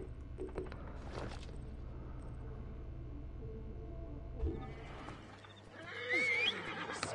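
Horse in Assassin's Creed Origins, a new black mount, neighs and whinnies with hoof clip-clops over a low game ambience, fairly faint, with a rising whinny near the end.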